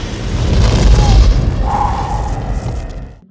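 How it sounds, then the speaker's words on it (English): A deep, rumbling boom swells and slowly fades over a few seconds, loud and heavy like a cinematic blast, with a faint tonal whine. "Wonderful explosion."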